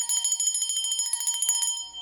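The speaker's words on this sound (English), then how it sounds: "I'm gonna ring the bell." A small bell is rung rapidly, giving a bright, shimmering metallic trill of quick repeated strikes for about two seconds before it fades, close and clear with no voices.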